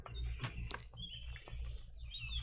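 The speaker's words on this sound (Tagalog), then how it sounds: "nabatian ko na ang huni sa mga pispis" Birds chirp and call in short bright bursts over a low background rumble, faint and somewhat distant, with no voices.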